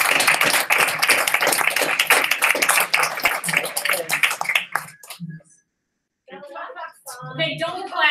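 An audience at a company rock-star event claps briefly, a burst of scattered hand claps that fades into a short silence before people talk and murmur close by.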